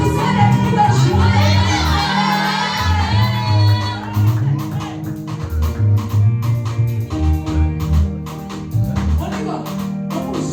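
A church congregation at a Sunday service shouts and cheers in cries of joy, a loud, sustained crowd roar with layered voices and whoops throughout.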